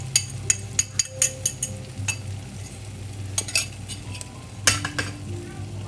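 An egg breakfast mixture sizzles softly in a one-pan skillet over medium heat. A series of sharp metal clinks from a utensil against the pan sound close above the quiet frying hiss.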